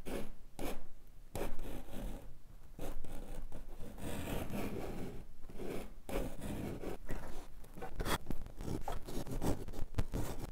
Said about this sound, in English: Light score marks to start.